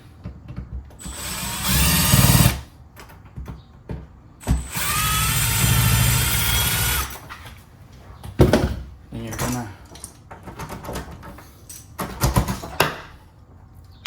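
A power drill backs out the screws of an existing door lock and deadbolt, with two long, loud whirring runs close by and short clatters and handling noises between them, with someone speaking in between.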